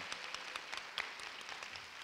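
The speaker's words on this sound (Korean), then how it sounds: "중보기도팀 너무 잘했는데 다시 한번 박수 주세요." A church audience gives a round of applause for an intercessory prayer team, quiet and somewhat sparse clapping with a few distinct sharper claps standing out, heard from a distance without talk.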